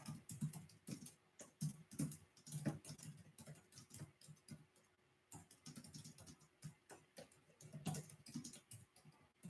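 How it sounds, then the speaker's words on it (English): Steady typing on a computer keyboard, close up, with irregular bursts of clicking keys and brief pauses, under a faint low background hum. "Just typing up a post here for the local"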